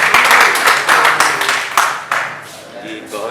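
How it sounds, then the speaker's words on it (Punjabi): Applause from an audience at a Punjab festival held at the Lahore Press Club, dense and sustained at first with a few sharper claps standing out, then thinning and tapering off toward the end. "ਢੇਰ ਸਾਰੀ ਤਾਲੀਆਂ"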